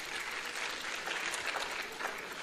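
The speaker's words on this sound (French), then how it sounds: "Il s'appelle Cheikh Diallo, que je demande d'applaudir." Audience applause at a medical school graduation ceremony, where parchments are handed to the outgoing class, forms a steady, dense wash of clapping that holds throughout at moderate distance.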